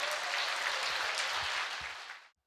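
Dense audience clapping for a speaker at a crowded company introduction event. It holds steady and full for about two seconds, then cuts off abruptly.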